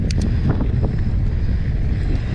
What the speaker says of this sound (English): It's getting windy out here.